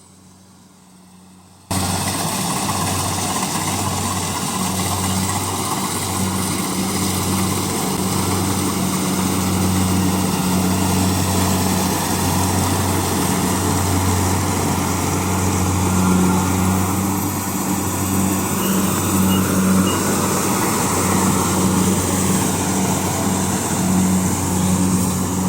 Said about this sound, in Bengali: আমার পেছনে ধান কাটা মেশিনে কত সুন্দর ধান কাটছে।